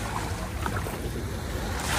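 High, rough waves rolling in at Dubai Marina Beach on a windy day, a steady loud wash of surf and gusting wind noise on the microphone.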